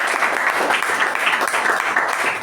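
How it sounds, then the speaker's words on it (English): Audience at a Toastmasters club meeting applauds Toastmaster Gajendra, a full, even round of clapping from a sizeable group that fills the room loudly and steadily for the whole stretch. "A big round of applause to Toastmaster Gajendra."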